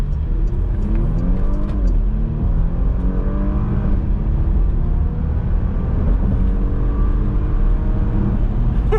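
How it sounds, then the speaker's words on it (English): A 2019 Porsche Macan S in Sport Plus mode accelerates hard up a freeway on-ramp, its engine loud and close inside the cabin, revving through several quick upshifts in rising sweeps with no one talking. "the shifting from first to second to third is pretty aggressive in Sport Plus, and then it levels out after that"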